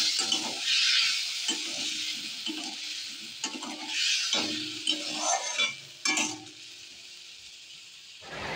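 Potatoes frying in a pan for a fish curry, a soft sizzle broken by repeated scraping and stirring strokes and light clinks of a utensil against the pan, without speech.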